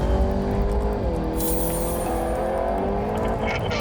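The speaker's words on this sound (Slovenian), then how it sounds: "gremo zdaj s to posebno različico GTI-ja na progo." A special edition VW GTI hot hatch drives hard on a race track, its engine note close and loud, dipping as it shifts and then pulling on steadily with faint tire noise.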